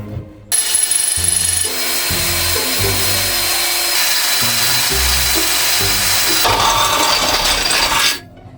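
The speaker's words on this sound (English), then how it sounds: "Okay, we finally managed to drill through. This is thick." A power drill bores through a thick panel inside a VW T4 van, running loud and continuous for about eight seconds with grinding pitch shifts as it bites, then stopping abruptly.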